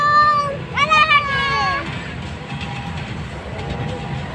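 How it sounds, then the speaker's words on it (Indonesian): At a railway crossing a passing train rumbles steadily while a bright, rising two-note horn or whistle sounds briefly near the start, with voices speaking over the low, continuous rolling noise. "Persilangan kereta, Bi."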